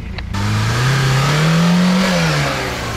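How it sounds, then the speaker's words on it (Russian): A Lada Niva off-road car with a 51 mm exhaust pipe revs hard at an off-road mud and sand run. The engine note climbs steadily, holds, then eases off, loud and close without speech. "У тебя 51-я труба, выхлоп какой, аж поршня вылетают."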